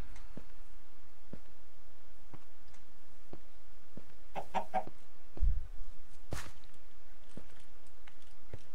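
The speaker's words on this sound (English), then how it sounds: "I see those chickens have grew up." Chickens clucking in Minecraft, a few short clucks scattered over quiet in-game ambience, with one slightly louder burst near the middle.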